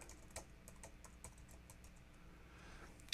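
Quiet, close keyboard typing: irregular clicks and taps of keys in short bursts, ending with one sharper keystroke, with no voices.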